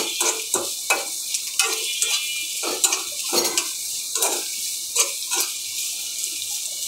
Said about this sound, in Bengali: এখন আমি রসুনটাও দিয়ে দিব, সবগুলো একসাথেই ভাজবো।